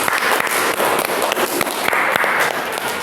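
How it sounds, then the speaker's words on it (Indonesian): A classroom group applauds with brisk, steady clapping that stays loud and dense for a few seconds, with no speech. "Kelompok 2, tepuk tangan."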